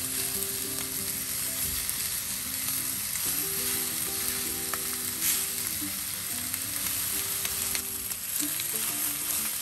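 Oxtail pieces browning in a pan give off a loud, continuous sizzle and crackle that holds steady throughout, close up and alone, with faint tonal hums underneath.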